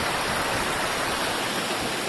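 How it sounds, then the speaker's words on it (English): A small waterfall beside a bridge on the Kerry Way, a steady, dense rush of falling water heard from close by with nothing else over it. "There's a lovely little waterfall"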